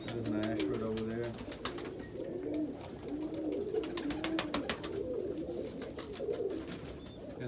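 Homer pigeons coo repeatedly inside a loft, soft rumbling calls layered with wing flutters and clicks, while someone talks quietly at times.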